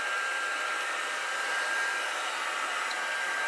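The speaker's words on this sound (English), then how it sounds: "And we're doing this with like a hot air blower" A hot air blower set to about 180 degrees Celsius heats PE pipe for a yurt light ring, giving a steady close whooshing roar with no breaks.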